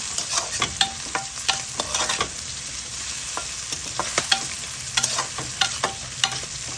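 A small onion frying in a pan for a potato and bhetki fish curry, a continuous bright sizzle broken by repeated sharp scraping stir strokes, close and loud with no talk.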